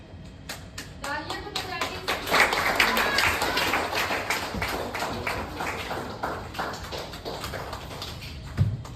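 An audience at a poetry recital in Lucknow claps, with sharp individual hand claps swelling into a fuller round of applause before thinning out to scattered claps near the end, moderately close.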